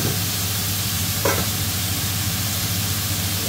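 Pork pieces fry steadily in a hot pan, a dense continuous sizzle and crackle heard close up and alone, with a brief scrape of stirring partway through.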